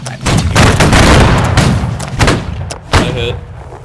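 Line infantry musket volley in Holdfast: Nations at War, Napoleonic era: a loud, dense burst of overlapping shots rolls for over two seconds, then a few scattered later reports follow, with voices in the background.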